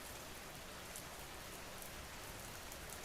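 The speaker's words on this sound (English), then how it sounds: "The rain has changed its sound dot." Rain falls steadily, a dense, unbroken hiss of drops on surfaces at an even loudness, with no voices or other sounds.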